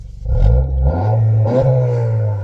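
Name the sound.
car engine revving through stainless exhaust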